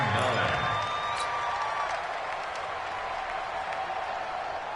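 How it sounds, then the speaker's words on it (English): Stadium crowd in a PS4 American football video game cheers steadily ahead of a big third down, a broad continuous roar filling the whole clip, with commentary talking over it. "the crowd getting into it as we come up on a big 3rd down"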